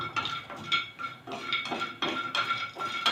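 A metal spoon scrapes and taps against a pan in a quick, regular rhythm as spices are dry-roasted and stirred, close and clear, with no talking.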